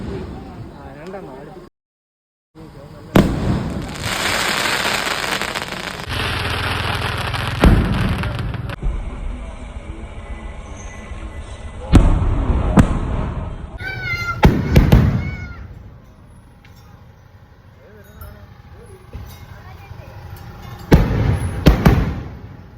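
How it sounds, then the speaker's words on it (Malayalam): Fireworks at a temple festival at Pallavur, with elephants present, go off in several loud bursts spread through the clip, and voices can be heard between and under the bangs. "ഇനി നമുക്ക് വെടിക്കെട്ടിനുള്ള സമയമാണ് നമുക്ക് ആ കാഴ്ചകൾ കണ്ടാലോ"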